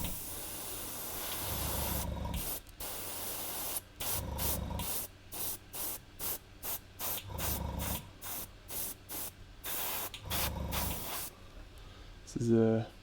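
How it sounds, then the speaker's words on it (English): An airbrush sprays paint in repeated bursts of close, steady hiss separated by brief silences, roughly a dozen spurts over the span, ending with a short louder hiss. "My airbrush is probably due a bit of a clean."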